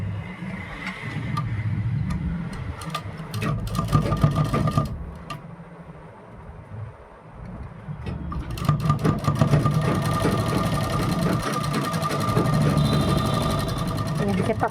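A sewing machine stitches a kurti collar set on buckram, its rapid mechanical whirring running in loud bursts with a brief quieter pause midway, then resuming steadily.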